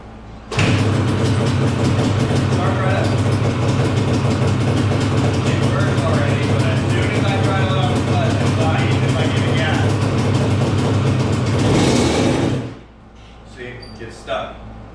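A 1990 Yamaha Banshee with a damaged transmission starts cold and runs, its engine droning loud and steady for about twelve seconds before cutting off, followed by a few faint knocks and some talk.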